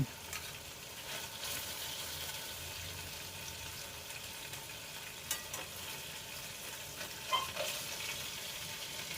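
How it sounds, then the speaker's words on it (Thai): Chicken pieces fry in oil in a pan over low heat for teriyaki, giving a steady, soft sizzle with occasional small crackles and no talking. "ย่างด้วยไฟอ่อน ๆ นะคะเขาจะได้สุกแล้วก็สีสวยค่ะ"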